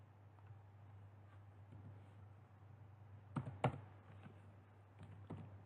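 A few faint, separate keyboard clicks from typing on a computer keyboard into a web browser, quiet and sparse over low background hum.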